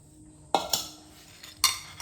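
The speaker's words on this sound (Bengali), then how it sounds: "এখন একটা প্লেটের মধ্যে চিপসগুলো ঢেলে নিচ্ছি।" Homemade tomato chips drop onto a plate in a few quick, crisp clinks and rattles, with a soft pause between the bursts, close and quiet with no voices.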